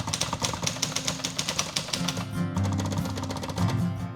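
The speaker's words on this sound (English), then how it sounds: "Lovely Tom Hanks typewriter that anybody can type on if they want." Tom Hanks' manual typewriter clacks in quick, irregular keystrokes, sharp and close, with a brief pause before the typing resumes, alone without speech.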